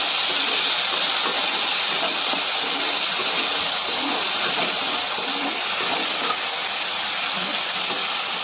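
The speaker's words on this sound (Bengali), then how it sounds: "তেল গরম হয়ে গেছে, এবার চিংড়ি মাছগুলো ভেজে নিই একটু" White river prawns sizzle in hot oil, a loud, even, continuous frying hiss heard up close and alone, with no break or talking.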